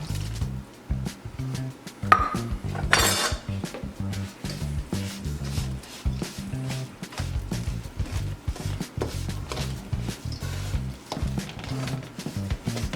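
A spoon mixing hot beef broth into tamale dough, giving a steady run of wet squishing, slapping strokes in a regular rhythm, close and moderately loud, with a brief clink partway through.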